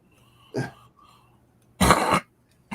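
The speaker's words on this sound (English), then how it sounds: "Trying to cough up phlegm." Two wet, rasping coughs a moment apart, the second longer and harsher, followed by a short final hack in a quiet room.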